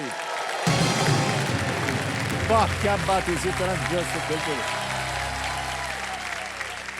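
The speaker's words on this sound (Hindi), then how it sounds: "ताली बजती रह जाए।" Studio audience on the Kaun Banega Crorepati quiz show breaks into sustained applause that fills the room, running steadily beneath the host's spoken praise.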